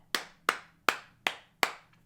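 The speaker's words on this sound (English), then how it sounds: "Round of applause." Five separate hand claps, sharp and evenly spaced, close and fairly quiet in a still room.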